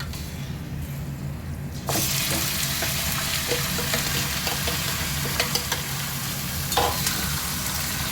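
Chicken pieces are added to a pan of golden fried onions for Golbari-style chicken, and a steady loud sizzle rises and keeps going with occasional scraping stirs.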